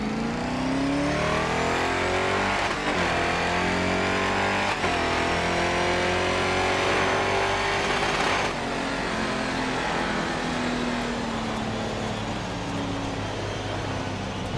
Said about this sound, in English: I wish I could make the engine a bit deeper sound.